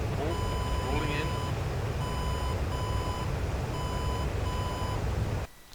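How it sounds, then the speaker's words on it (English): Cockpit warning alarms in the DCS AJS-37 Viggen flight game beep in repeated steady tones over the loud, continuous roar of the jet, then cut off abruptly near the end. "Lots of alarms going in."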